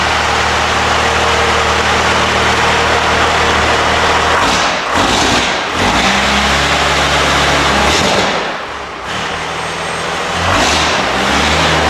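A fuel-injected car engine is cranked and fired up, then revved hard with loud, continuous roaring that surges and dips briefly twice before climbing again, suggesting it is starving for fuel.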